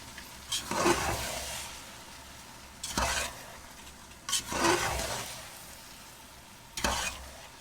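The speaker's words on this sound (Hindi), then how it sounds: "और इन्हें अच्छी तरह से मिक्स कर लेते हैं।" Rice being stirred in a pan for jaggery rice, with several separate scraping, sizzling stirring strokes coming in bursts of roughly one or two seconds and quiet frying between them, close up.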